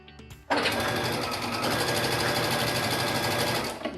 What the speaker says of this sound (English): And now, I'll lower my foot and stitch the seam.